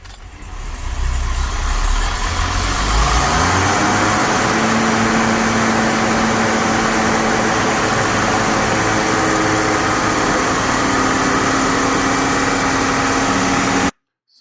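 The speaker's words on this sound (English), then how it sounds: "one problem after the engine's been put back in is it idles very high" A Mercedes W123 280 TE estate with the M110 engine idles steadily at a high, even speed after being refitted, droning close and loud for the whole stretch with no voices.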